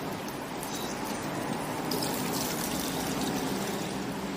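Liquid is poured steadily into a carved pumpkin holding a flame, a continuous close trickling and splashing stream that swells slightly partway through.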